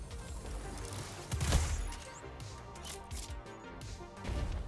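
Grenade launcher blasts in a Destiny Crucible match, Mountain Top in hand, land as a few heavy booms and crashes, one loud burst standing out amid ongoing game noise and scattered impacts.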